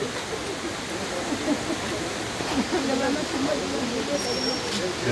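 At Suruli Falls a heavy flow of water pours down, a loud, steady roar of falling water that fills the whole stretch evenly, with a voice talking faintly beneath it.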